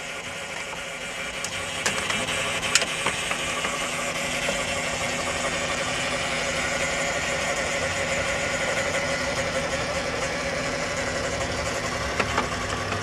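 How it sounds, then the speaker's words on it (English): Under the hood of an idling truck, a transmission pump whines steadily over the even engine drone, with a few faint clicks and no talking. "I guess the pump got tired of whining"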